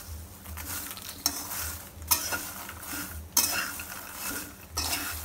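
Makhana (fox nuts) roasting in a pan with masala, a spoon scraping and stirring in repeated strokes over a steady dry sizzle, close and fairly loud with no talking.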